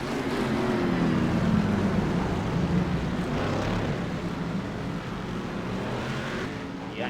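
Corvette race car engines in a racing simulator game at Suzuka, a steady loud droning roar with shifting pitch as the cars run together, no talk over it.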